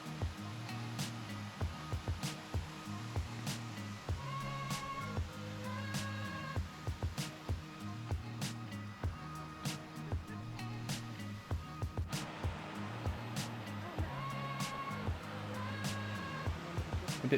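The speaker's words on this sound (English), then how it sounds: "A bit further along you can still see nice little multi-layered waterfalls here" Small multi-layered waterfalls cascade along a creek on the Minnehaha hike, a steady, close rush of falling water that runs throughout, with periodic low thumps and faint tonal sounds over it.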